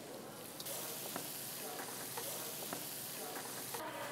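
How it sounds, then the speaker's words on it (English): Shrimp fry in a pan with garlic over medium heat, giving a steady, close sizzle with a dense crackle and a few soft stirring clicks throughout. "then we're gonna add our shrimp to this pan"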